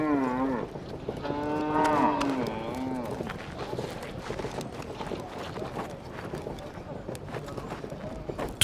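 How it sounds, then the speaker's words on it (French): Fulani cattle graze in a wide dusty open area, one lowing in a long drawn moo near the start while the herd shuffles and hooves thud softly, with voices and movement around. "des vaches peules paissaient tranquillement"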